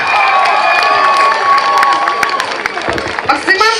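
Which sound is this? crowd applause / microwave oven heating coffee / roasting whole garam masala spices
crowd applause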